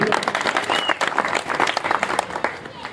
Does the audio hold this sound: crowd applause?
yes